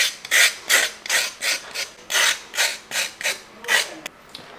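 A knife scrapes the skin off a raw green plantain in about ten quick rasping strokes, each a short gritty pull with brief pauses between, close and fairly loud with no talking.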